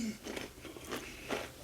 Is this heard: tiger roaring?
no